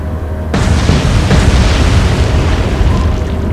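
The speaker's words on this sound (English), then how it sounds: "Fire the torpedoes away." Torpedoes strike a warship in the naval combat game Atlantic Fleet, a sudden loud boom that bursts in and then rolls on as a dense, sustained rumbling roar with no talk.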